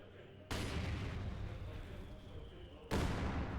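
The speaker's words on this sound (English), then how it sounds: "there goes the barrage ability right on top of the house" Mortar barrage in the video game Company of Heroes 2, two sudden heavy booming impacts, the first sustaining a rumbling roar for a couple of seconds before the second hits, with a commentator talking over the game.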